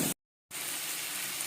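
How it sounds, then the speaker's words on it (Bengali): Potatoes and mushrooms fry with spices in a home-kitchen pan, giving a steady, fairly loud hiss and crackle after a brief silent gap at the start. "এখন সবগুলোকে মশলার সঙ্গে একসঙ্গে কষিয়ে নিতে হবে।"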